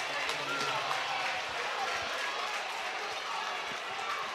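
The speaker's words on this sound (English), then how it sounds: "the Tiger crowd here is roaring inside the gym" A home crowd of Tiger fans roaring inside a high school gym during a girls basketball game, a dense, sustained wall of cheering and shouting with no pauses.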